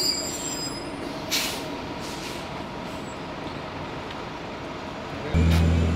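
Train at a station, heard faintly from nearby: a steady low rumble of rolling cars with faint hissing brake bursts and a louder thud near the end, no talking.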